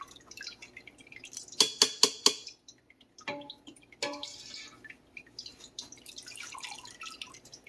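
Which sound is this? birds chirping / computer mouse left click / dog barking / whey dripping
whey dripping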